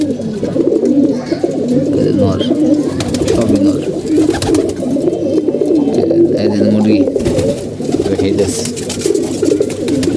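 Pigeons coo in a steady, close, overlapping chorus of soft throaty calls, with someone speaking over them.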